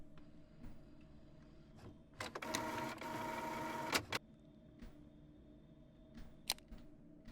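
A printer in a video game set in a call centre runs one loud burst of mechanical printing for about two seconds, set against faint room hum and scattered clicks.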